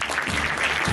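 Audience at a church convention breaks into brief, dense clapping, a wash of many hands heard close and loud with no voices over it.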